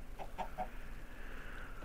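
Minecraft chickens let out a few soft, quick clucks near the start, then fade into a quiet steady ambient hum.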